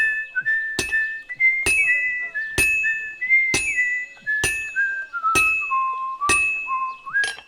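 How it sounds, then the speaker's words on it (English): Hammer strikes ring out on metal at a steady, even pace during blacksmithing in the video game Kingdom Come: Deliverance 2, with a bright sustained whistled tune running between the clanks. "You just heat up a piece of metal until it's yellow, and then bang on it in what is essentially a rhythm game."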